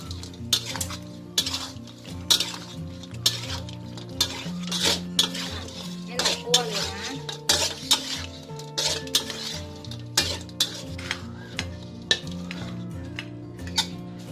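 Tilapia fish meat is stir-fried in a pan over a thick sauce, with loud metal spatula scrapes and clanks against the pan repeating over a constant sizzle, near and with no talk.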